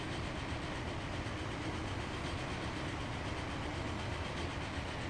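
The Mallard steam locomotive in the Transport Fever video game rolls along in a steady, dense rumble with a rhythmic clickety-clack over the rails, continuous and moderately loud with no voices.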